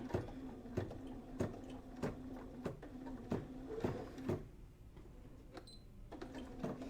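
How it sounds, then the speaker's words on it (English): An embroidery machine stitching with its presser foot lowered gives a steady run of sharp, evenly spaced needle clicks over a low mechanical hum. It sits close and fairly quiet, with a short pause near the end. "Okay, so I can lower my presser foot and I can go ahead and start my stitching."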